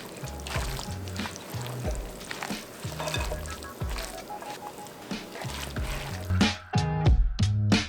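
Mediterranean orzo salad is mixed with dressing in a bowl, with wet squishing and stirring sounds in a repeating rhythm, close up, while music plays underneath.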